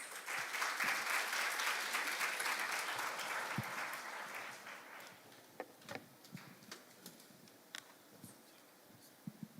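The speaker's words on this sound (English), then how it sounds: "Please welcome with a big round of applause." Steady audience applause at a youth international forum fills the first few seconds, then tapers off into scattered individual claps and light taps.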